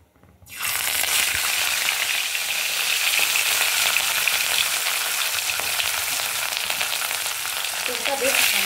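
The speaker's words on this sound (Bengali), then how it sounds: "আর এদিকে কড়ায় তেল দিয়েছি, তেলটাও গরম হয়ে গিয়েছে, ধোঁয়া উঠছে। এবার মাছটা তুলে দেব।" Fish fries in smoking-hot oil in a wok, starting after a short silence with a loud, steady, dense sizzle and crackle that holds evenly throughout, close up.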